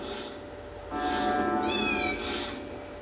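A kitten lets out one clear, close meow in the middle, surrounded by soft rustling bursts of handling noise and no speech.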